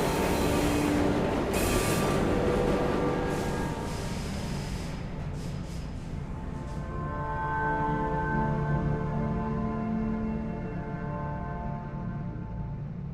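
A train in the video game Luna Abyss rolls into its terminus, a loud, steady rumble of wheels and carriages with a brief hiss partway through, settling into a sustained drone with faint tonal hums as it slows.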